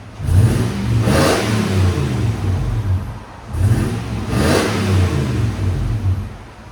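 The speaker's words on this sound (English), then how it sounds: "Really good rumble, and at idle, like it's basically disappears, becomes stock" A Toyota 4Runner 4.7L V8 with straight-pipe exhaust revs twice in quick succession, each loud, deep, throaty rumble swelling and falling back, heard close with no talking.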